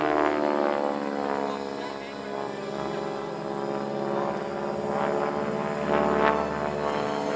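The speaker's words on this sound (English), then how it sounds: "The T-6 Texan family trained more pilots than any other aircraft type in history" A T-6 Texan propeller trainer flies at the Edwards AFB airshow, giving a steady, buzzing, richly layered engine drone with a throbbing propeller beat that stays loud and continuous, swelling slightly toward the end.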